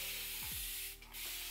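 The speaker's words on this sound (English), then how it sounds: "Don't you just love this spray bottle?" A continuous-mist spray bottle spritzing water onto hair during a hair gloss treatment, one short close burst that keeps hissing briefly, with a faint steady hum beneath.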